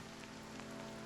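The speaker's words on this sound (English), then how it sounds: "God, you can hear the rain." Steady rain in the video game The Haunting of Joni, a soft continuous patter with faint droplet ticks over a low ambient hum, quiet and unbroken throughout.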